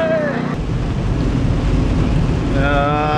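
Heavy rain pours down outside, a dense, steady wash of noise throughout with some wind buffeting, while voices talk briefly at the start and end.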